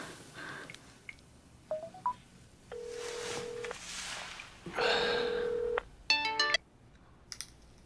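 A telephone ringback tone pulses twice, steady and electronic, while a caller waits for an answer. A quick burst of keypad dialing beeps follows, close and clear with no talk.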